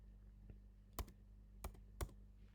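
Three sharp, isolated keystrokes on a computer keyboard, close and crisp against a quiet low hum, with a faint tap before them.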